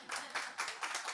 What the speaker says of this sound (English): Clap for Ido.